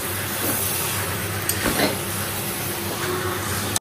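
Chicken and potatoes frying in spices and melted ghee in a pot, a steady sizzle and hiss with a few clinks of a stirring spoon, no one talking.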